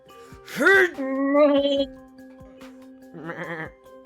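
A sheep bleats several times up close, a wavering cry followed by a longer drawn-out bleat and a shorter one after a pause, in an otherwise quiet setting.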